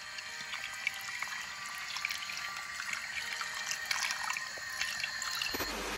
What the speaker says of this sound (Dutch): dus ik doe nog even een scheutje kraanwater gewoon erbij